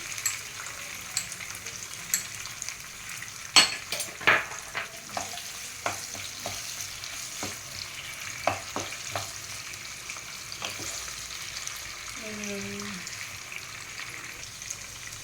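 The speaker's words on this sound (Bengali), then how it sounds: "এবারে কাজুগুলো দিয়ে দিই।" Cashews fry in a pan for a vegetarian paneer dish, with a soft steady sizzle broken by scattered sharp clacks of a spoon stirring against the pan.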